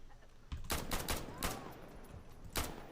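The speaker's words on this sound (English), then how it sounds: "They're shooting each other." Gunfire in the video game Insurgency: Sandstorm, heard as several sharp, loud shots in quick succession, with a brief burst near the start and another at the end over a low background rumble.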